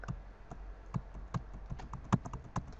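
Keys on a computer keyboard clack in quick, uneven bursts during KitPvP gameplay, close and crisp with short pauses between strokes.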